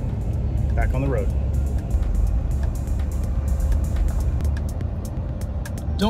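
A mail carrier's vehicle idles in a driveway off a road in East Baton Rouge Parish, giving a steady low engine rumble with scattered clicks and faint voices nearby.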